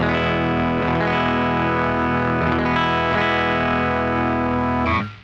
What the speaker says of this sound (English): we get like a big woolly, kind of like a blown speaker distortion, but it's also just kind of sounds like a really aggressive compressor